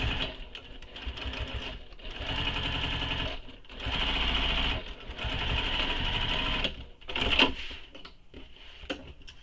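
A sewing machine basting a flap in place on a mini backpack, running in several steady whirring bursts separated by brief pauses, loud and close with no talk.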